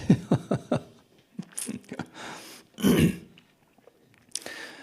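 Several short throat-clearing coughs in quick succession, followed by scattered rough bursts and one longer harsh cough, close and fairly loud.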